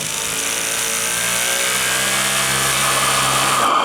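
A small radio-controlled steam engine runs again after its gas pressure drops, giving a steady, close mechanical whir and hum that stays loud and unbroken throughout, with no voices over it.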